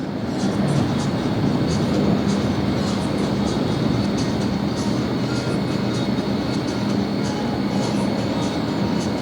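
A Spirit Airlines jet takes off at LAX, heard from a nearby hotel as a loud, steady roar of engine thrust and rushing air that stays constant throughout.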